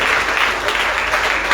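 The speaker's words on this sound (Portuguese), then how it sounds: "Vamos poder aplaudir assim pela vida desse homem" A church conference audience applauds a pastor with dense, steady clapping that fills the whole stretch, loud and close, with no break in the sound.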